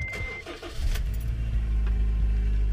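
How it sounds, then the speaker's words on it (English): A Honda Stream RN6 car engine starts after an oil change and settles into a steady, low idle hum that runs on without revving. "Then I will run the engine for about 5 minutes, not race it, just turn it over and let it run for about 5 minutes."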